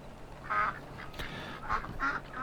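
Goose honks from Farming Simulator 22, several nasal calls in short bursts, moderately loud against a quiet background with no talking.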